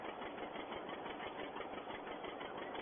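A farm tractor engine runs steadily, a muffled, even mechanical chug with a fast regular pulse, faint and alone without voices.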